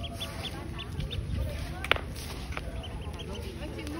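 Home-hatched ducklings out in a yard for the first time, giving faint, scattered peeps over a steady outdoor background hiss, with one brief sharper sound near the middle.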